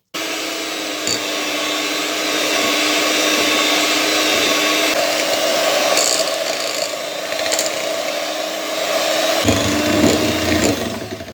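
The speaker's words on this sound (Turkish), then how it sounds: "Ve mikserin en düşük devrinde yavaş yavaş çırpacağım." An electric hand mixer on its lowest speed whisks pudding, a steady motor whir continuing for several seconds, loud and close, then shifting pitch near the end.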